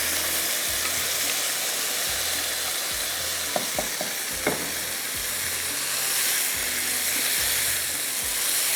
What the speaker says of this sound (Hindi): अब इसके अंदर जाएगी ये मसाला लगी जो चिकन है